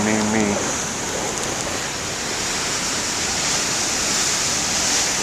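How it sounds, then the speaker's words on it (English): Large ocean waves crashing on a shore, a continuous loud roaring wash of surf that swells and holds steady throughout, with no speech. "the waves were hardly anything compared to what they are now"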